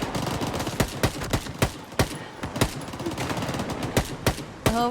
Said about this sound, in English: I hope I'm shooting the right people.